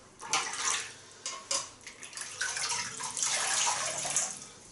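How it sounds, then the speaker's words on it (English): Cold water runs from a tap in a steady, close rinse with uneven splashing bursts, no talking. "Just a cold rinse."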